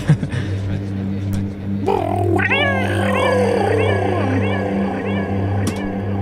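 Person mimicking a cheerful cat with a series of wavering meows, close and clear, with a low steady hum underneath.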